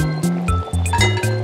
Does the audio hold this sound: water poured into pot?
yes